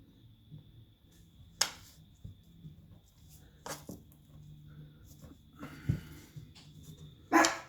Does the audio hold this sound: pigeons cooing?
no